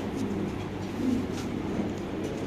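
Racer pigeons at a pigeon farm coo softly in low, murmuring bursts, with a steady background hum and no one speaking.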